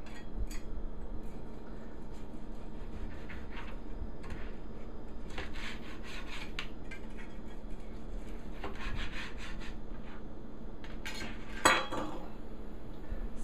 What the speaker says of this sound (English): now we're just gonna cut it down into chops